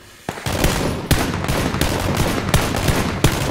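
Gunfire in the shooter game PUBG, sharp loud shots cracking at irregular intervals over a dense, roaring battle background, with no talking.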